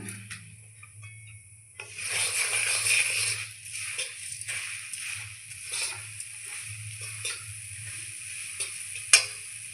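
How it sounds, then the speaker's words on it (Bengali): Puffed rice tipped a little at a time into hot melted jaggery and stirred, a steady dry rustling scrape with faint sizzle, close and continuous, rising after a quiet start, with a sharp knock near the end. "এখন আমি মুড়ি দিয়ে দেব অল্প অল্প করে মুড়ি দিয়ে নাড়তে থাকবো"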